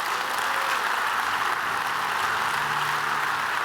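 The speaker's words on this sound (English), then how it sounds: "Let's give them one more round of applause." Sustained applause from a conference audience for port union locals at the Savannah State of the Port address, a steady even roar of clapping throughout, with no speech over it.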